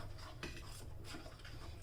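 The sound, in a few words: stirring ragi finger millet mixture in a pot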